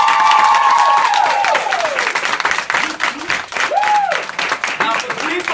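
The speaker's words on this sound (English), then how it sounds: "So please give her another big round of applause." Crowd applause at a graduation with some cheering and whistles, lively and steady at first, then thinning with scattered voices toward the end.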